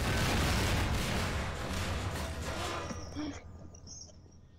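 A loud rumbling blast that rolls on and slowly fades, like a video game explosion, followed by quieter trailing noise.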